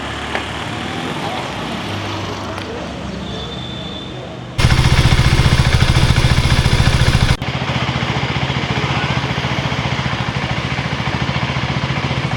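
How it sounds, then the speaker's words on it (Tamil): A KTM Duke 390 motorcycle idles with a steady engine drone, then revs loudly and harshly for a few seconds before settling back to a steady running note. "கைஸ், வண்டி ஸ்டார்ட் ஆகிடுச்சு"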